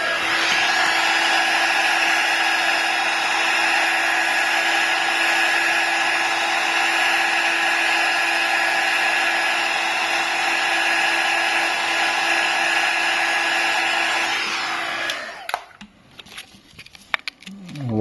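Heat gun blowing hot air to loosen the glue under a cracked iPhone screen, a steady high whine and hiss held for about fifteen seconds, then cut off, followed by faint clicks and handling noises.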